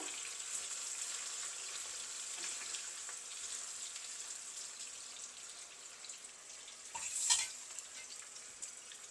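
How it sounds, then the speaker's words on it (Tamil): Raw plantain frying in a pan for an eggplant kaliya curry, a quiet continuous hiss of oil with light crackles and a brief louder clatter near the end. "வாழைக்காய் உடனே ஃப்ரை ஆயிரும், அதுக்கு ரொம்ப டைம் எடுக்காது"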